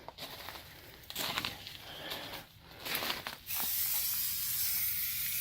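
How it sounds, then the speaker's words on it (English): A can of Loctite spray adhesive is sprayed in several short hissing bursts, then in one long, steady hiss, all close up and fairly loud. "Loctite spray adhesive."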